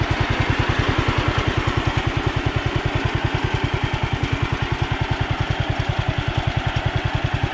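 Steady, rhythmic chugging of an antique Sears tractor engine idling nearby, a fast even putt-putt with no voices.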